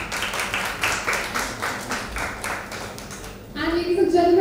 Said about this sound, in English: I give a big round of applause for his beautiful visual.